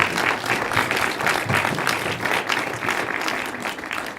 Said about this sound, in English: Let's give one more round of applause for Cornelia.